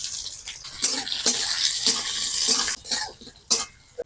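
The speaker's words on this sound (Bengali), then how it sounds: "এর মধ্যে পেঁয়াজ দিয়ে ভালোভাবে ভেজে নেব" Onions frying in hot mustard oil in a pan, a steady bright hiss and sizzle broken by repeated scraping stirs of a spoon against the metal, close and fairly loud with no talking.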